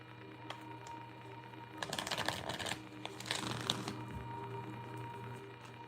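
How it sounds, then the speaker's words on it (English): Tarot cards are shuffled in two quick riffling bursts of crisp flutter against a quiet room hum. "let me get a good shuffle again"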